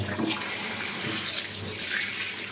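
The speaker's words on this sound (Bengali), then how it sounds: "তেলাপিয়া মাছ ধুয়ে নেই" Tilapia fish are rinsed under a running tap, giving a steady close splash and gurgle of flowing water for the whole stretch, with no voices.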